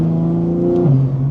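BMW G80 with a catless downpipe and equal-length midpipe revs loudly, a raspy exhaust drone holding steady and then dropping in pitch as the revs fall, close and alone.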